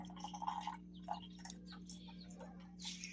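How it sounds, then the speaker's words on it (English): Birds chirp near dawn, scattered short calls and tweets at moderate distance over a steady low hum, with no talking. "Do you hear the birds?"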